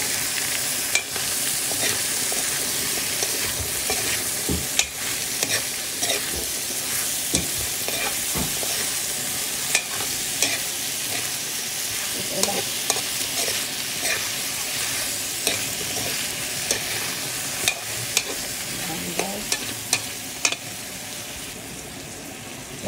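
Kalabasa squash sautéing in a pan, a continuous close sizzle broken by frequent scraping and clinking stirs of a utensil against the pan.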